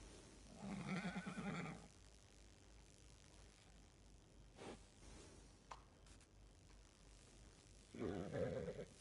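Horse whinnying in Red Dead Redemption 2, two loud neighs near the start and end with a quieter outdoor game ambience and faint thuds in between.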